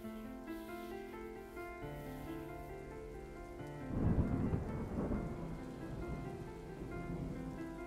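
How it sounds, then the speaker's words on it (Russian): A steady downpour of rain on surfaces rolls on throughout a warm night, with a deep rumble of thunder swelling partway through before settling back into constant rainfall. "Буря стороной прошла."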